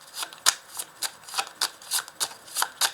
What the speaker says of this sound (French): je vais rajouter une carte dessus